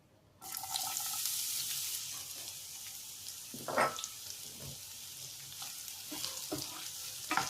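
Chopped onions sizzle steadily in hot oil in a pan for a bitter gourd (karela) curry, a continuous bright hiss with occasional stirring scrapes and clinks close by.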